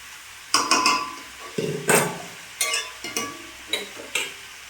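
Chicken and potatoes are stirred and fried in a pan for kosha, with loud scraping and clattering strokes of a spoon against metal over a sizzling hiss, close up and irregular.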